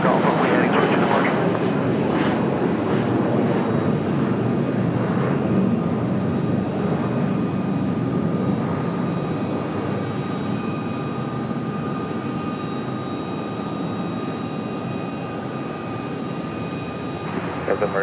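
A Boeing 737 BBJ business jet departs an airport runway, its broad engine roar steady and loud throughout while air traffic control radio talk carries on over it.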